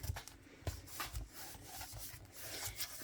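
Paper being smoothed down by hand over a DIY gift box and gift card holder, giving soft, close rubbing and brushing strokes with small taps, steady and quiet throughout with no talking.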